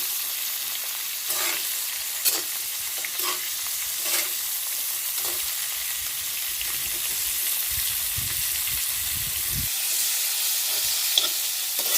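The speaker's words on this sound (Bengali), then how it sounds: "ফুলকপিটা আমার লাল লাল করে ভাজা হয়ে যাবে" Home-grown cauliflower fries in oil alongside potatoes, giving a soft, steady crackling hiss with occasional spatula taps and scrapes, fairly quiet and even throughout, and no voices.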